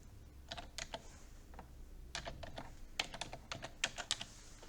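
Typing on a computer keyboard: bursts of quick, light key clicks with short pauses between them, close and fairly quiet, no voices.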